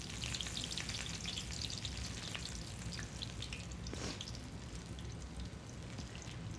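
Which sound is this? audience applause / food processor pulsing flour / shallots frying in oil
shallots frying in oil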